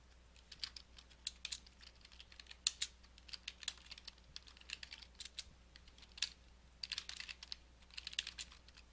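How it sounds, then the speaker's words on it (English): Computer keyboard typing while data is entered into Microsoft Publisher, a steady run of quick, light key clicks with small bursts and brief pauses, close and fairly quiet. "simply type the information into the first field, and then press Tab on your keyboard to move to the next field."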